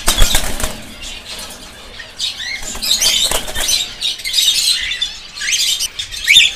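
One-day-old cockatiel chicks in a clay nest pot, giving high thin chirps and rustling in bursts, close and fairly loud, with soft scuffling between calls.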